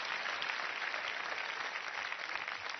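Dense, continuous applause from a studio audience at an Italian TV comedy show fills the whole stretch, even and sustained with no pauses.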